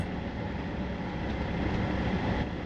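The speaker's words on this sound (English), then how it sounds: "This particular train is the BR Class 150/2 diesel multiple unit in Regional Railways livery and consists of 2 cars." Steady rumbling drone of a two-car BR Class 150/2 diesel multiple unit in Regional Railways livery, simulated in Train Sim World 2 on the West Cornwall line, a continuous broadband engine and rail noise with no talk.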